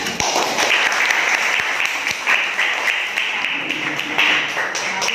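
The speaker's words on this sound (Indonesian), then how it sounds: "Beri tepuk tangan." A class applauds a student presentation in a classroom with steady, dense clapping that runs for about five seconds, close and fairly loud, with a few sharper individual claps standing out.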